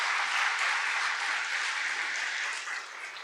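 A congregation claps together in a church ordination service after new deaconesses are proclaimed, a steady, full wash of applause from many hands that holds evenly and eases slightly near the close.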